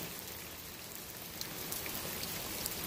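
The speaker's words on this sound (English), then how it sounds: "Always something therapeutic about the sound of rain." Steady, even rainfall, a soft dense hiss of drops with occasional brighter patters, continuous and moderately faint throughout.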